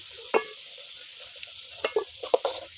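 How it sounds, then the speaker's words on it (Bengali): Potatoes frying in leftover fish oil in a pan, stirred with a few sharp scraping clacks of a spatula over a soft background sizzle, close and fairly quiet. "আলুটা কিন্তু বন্ধুরা একটু ভালো করেই ভাজতে হবে লাল করে দেব"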